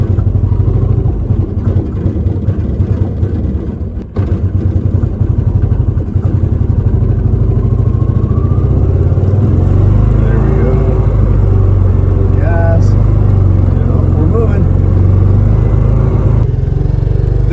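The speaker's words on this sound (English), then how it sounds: "time to take the psychedelic Isetta for a test drive." A barn-find BMW Isetta's small engine runs on a first test drive after 35 years, a loud close buzzing drone that rises and wavers as it pulls away, with a person talking over it.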